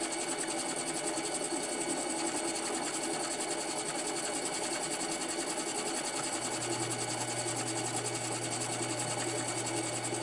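A 7x10 variable-speed mini lathe cuts through the center bore of a washer with a steady, close mechanical whine and hum. The sound runs unbroken throughout, and a deeper tone joins partway through.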